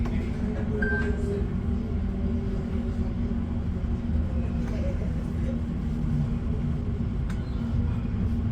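A steady low rumble of an Elizabeth Line train running towards Paddington, constant and loud throughout, with faint distant squeaks and no clear speech.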